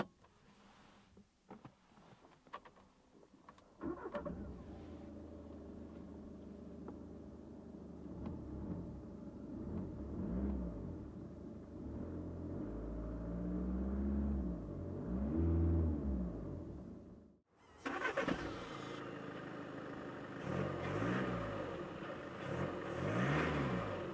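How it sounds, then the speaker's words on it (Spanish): A petrol Audi A3 cranks and fires up, then settles into a steady running rumble with a few revs, heard close from outside before a brief cut and a shift to a different position. "Voy a encenderlo para enseñaros brevemente el sonido desde fuera y desde dentro."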